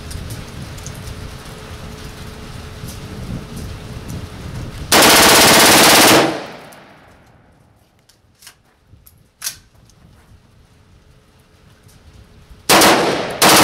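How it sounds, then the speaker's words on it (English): An AR-15 rifle bump-firing on a Class 3 range lets off a loud, rapid continuous burst of about a second. Quiet ambience and a few faint knocks follow before a second short burst at the end. "Here goes a bump fire with this man."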